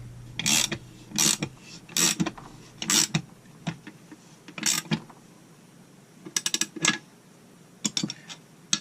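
Threaded rod with a stack of washers being tightened to press a bearing into an engine case, giving bursts of ratcheting clicks in short groups separated by pauses, close and fairly loud with no talking.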